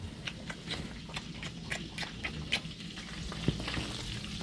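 A burger bun cooks on a hot pan, sizzling softly and continuously with scattered crackles and small pops, fairly quiet and close.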